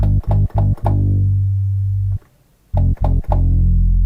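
Deep, muffled low-pass filtered synth bass from Native Instruments Monark pulses in a short rhythmic pattern, cutting off to near silence for a moment before resuming, with no bright upper tones.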